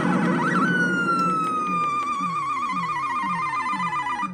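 Loud electronic game sounds from a Ms. Pac-Man Arcade1up countercade: a rising then slowly falling synthetic tone over a rapid pulsing warble, bright and siren-like, filling the space.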